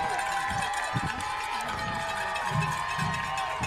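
A college football stadium crowd swells into a loud, steady roar of cheering, with a commentator talking over it.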